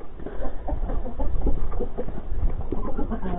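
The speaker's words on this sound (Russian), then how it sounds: "Хочу показать, как у меня содержатся куры-несушки." Laying hens of mixed breeds cluck and murmur inside a henhouse, a close, busy chorus of short overlapping clucks with no speech.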